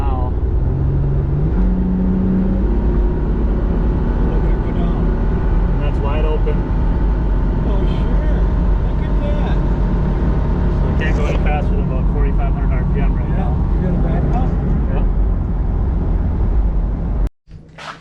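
An Isuzu VehiCROSS engine idles steadily with low fuel pressure, a loud continuous close hum and drone that cuts off abruptly near the end.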